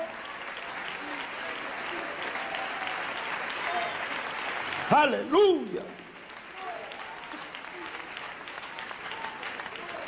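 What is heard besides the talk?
church congregation applause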